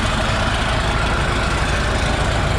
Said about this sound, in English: That's just the exhaust thing rattling.